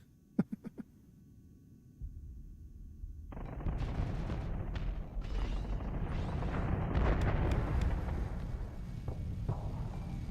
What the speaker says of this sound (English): Laser torpedoes are nice.